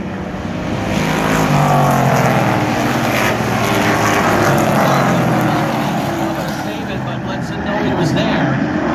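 Stock cars racing at Wiscasset Speedway, engines roaring steadily as the pack passes close by with the pitch rising and falling, under an announcer's continuous commentary.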